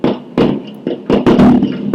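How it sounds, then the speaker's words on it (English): Firecrackers and rockets burst on New Year's Eve, about five or six sharp, loud cracks in an irregular rapid sequence, close by. Brief gaps fall between the blasts, and no one speaks. "So you have a whole world shooting rockets, as you can hear, firecrackers into the sky."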